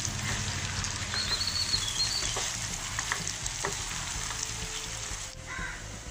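Chicken coated in spice powders is stirred in a frying pan for a fried chicken masala curry. A steady close sizzle sits under intermittent scraping and shuffling of the pieces, with no voices.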